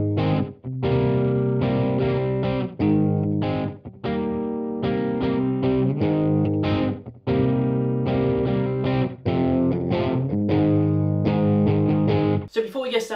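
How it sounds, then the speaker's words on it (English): Electric guitar played through an overdrive pedal into a clean Fender amp, chugging a driven, rhythmic riff of repeated chords for several seconds, loud and alone before a brief bright strum at the end. "I'm actually using an overdrive pedal straight into this clean amp, this clean Fender amp behind me here"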